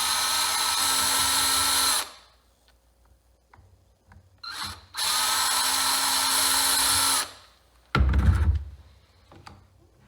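A power drill driving screws on a radio-controlled car whirs in two long bursts with a short quiet gap and light clicks between them, then a brief loud thump and rattle.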